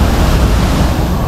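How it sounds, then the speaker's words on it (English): Strong river water flowing near Sumampan Waterfall in Bali, a loud, steady roaring rush with heavy low-end rumble and no breaks. "There you can see the water flow is pretty strong."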